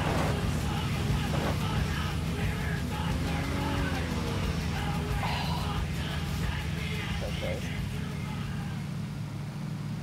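A car drives in the video game PUBG, giving a steady, loud engine drone with a brief tyre skid partway through. Faint voices can be heard underneath.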